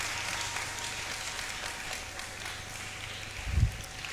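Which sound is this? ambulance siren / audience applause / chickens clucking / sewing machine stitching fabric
audience applause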